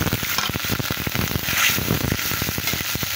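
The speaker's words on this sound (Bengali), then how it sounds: "সুন্দর করে ভাজা হয়ে গেছে, এখানে গ্রেভি করার জন্য আমি পানি দিয়ে দিলাম।" Water poured into a pan of frying river fish, prawns and pabda, sets off a loud, close crackling sizzle with rapid sputtering pops throughout, no voices.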